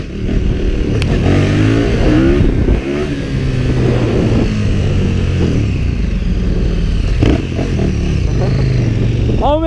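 A KTM Super Duke 1290 motorcycle engine revs repeatedly, loud and close, its pitch climbing and dropping in surges over about ten seconds with a clattering mechanical edge.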